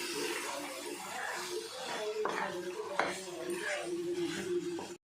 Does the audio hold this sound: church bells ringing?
no